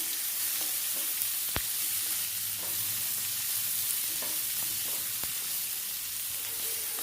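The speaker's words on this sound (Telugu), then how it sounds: "సో ఇప్పుడు ఇందులో సన్నగా తురుముకున్న క్యాబేజ్, సో దీన్ని కూడా చక్కగా ఫ్రై చేసేద్దాం." Finely grated cabbage frying in a pan with garlic: a constant close sizzle and hiss with occasional soft stirring taps and scrapes, no talking.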